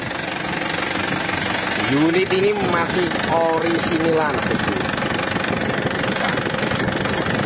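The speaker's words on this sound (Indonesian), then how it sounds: "ini kondisi mesin sudah hangat" A warmed-up Isuzu Elf long truck engine idles with a steady, even diesel rumble and light knocking throughout, while someone speaks close by over it.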